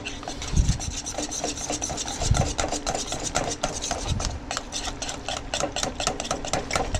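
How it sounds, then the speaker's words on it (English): A whisk beats key lime pie filling in a bowl, a steady rapid scraping and rasping rhythm with occasional heavier knocks against the bowl, close and continuous throughout. "Get a whisk. Get this stuff stirred up."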